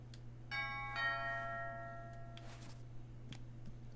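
A video game doorbell chimes twice in quick succession, two bright ringing tones with a clean decay, followed by a short soft rustle and then quiet room tone.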